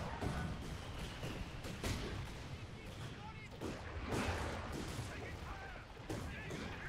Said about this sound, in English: Here comes the Land Mattress!